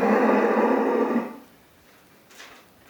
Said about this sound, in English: Cows are up, so she thinks it's time to eat.